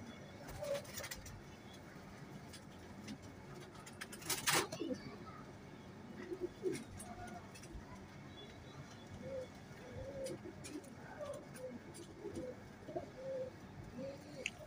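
A male teddy pigeon gives faint, intermittent coos over a noisy background with a sharp clack partway through and scattered low murmurs, the bird sounding somewhat distant and quiet.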